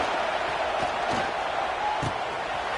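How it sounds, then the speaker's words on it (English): A packed stadium crowd at a college football game roars in a constant, broad wash of noise, with a few faint thuds and no clear voice standing out. "It's early, but this crowd is fired up."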